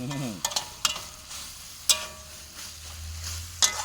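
Curry paste stir-fried with pickled bamboo shoots and meatballs in a hot pan: several sharp spatula scrapes and clanks over a steady low sizzle, close and fairly loud, with no talking.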